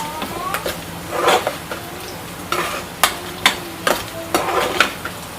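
Spoon stirring onions frying in a pan for onion biryani, repeated scraping strokes close by over a soft sizzle, with the stirring growing more regular toward the end.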